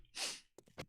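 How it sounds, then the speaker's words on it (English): A single loud, explosive sneeze bursts out at close range, followed by a few short sharp snorts and breaths. "That was a sneeze."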